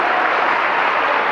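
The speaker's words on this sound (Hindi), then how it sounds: "ताली बजाइए सभी लोग।" An audience at a cyber security awareness workshop applauds a child receiving a prize, a dense, steady roar of many hands clapping together throughout, close and fairly loud.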